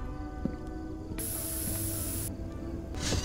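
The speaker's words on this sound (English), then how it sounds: "I'm taking a fly spray with me." In the video game Ironbark Lookout, a can of fly spray lets out one loud hiss lasting about a second, framed by faint mechanical clicks and ambient game noise, with no one speaking.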